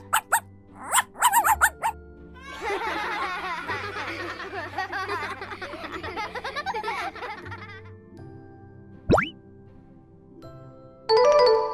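A puppy gives a few quick yaps before a longer stretch of excited, warbling cries, followed by chiming effects and a short whistle-like sweep.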